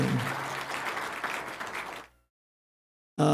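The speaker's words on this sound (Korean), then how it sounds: "박수 한번 해주시기 바랍니다." A church congregation at a Sunday morning worship service bursts into full, steady applause for about two seconds, then falls abruptly silent before another loud sound cuts in at the very end.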